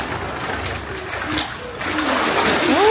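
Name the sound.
splash of someone dipping into swimming pool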